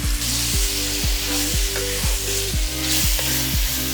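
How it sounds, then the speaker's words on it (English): Beef meets hot cooking oil in a pan for jollof rice, giving a steady close sizzle while a rhythmic, pulsing tonal hum repeats about twice a second underneath. "Once the oil is hot, as you can see,"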